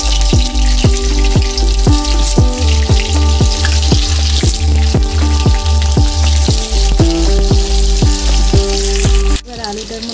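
Potato pieces fry in hot oil in a wok with a loud, continuous sizzle and crackle, and regular scraping strokes from stirring repeat throughout before the frying cuts off abruptly near the end.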